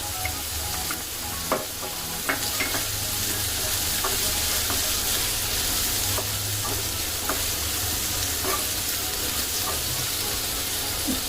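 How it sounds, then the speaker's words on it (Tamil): Onions and green chilies sizzle and fry steadily in a pan for a Tamil rice flour balls dish, with occasional clinks and scrapes of stirring over the continuous crackle, close and fairly loud. "ஆனியன் போட்டு நல்லா வதக்கிங்க."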